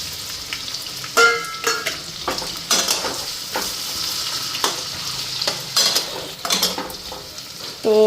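Onion added to hot oil with lightly fried potatoes sizzles steadily, with repeated sharp scrapes and clacks of a stirring spoon against the pan, close and fairly loud throughout.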